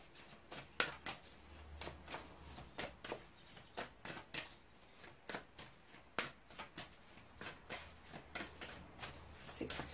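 Tarot cards shuffled by hand in a quick, steady riffling rhythm of soft papery flicks, close and clear over a faint low hum.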